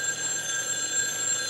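An old-style telephone bell rings continuously in a bright, steady trill throughout the short stretch, close and alone with no talk.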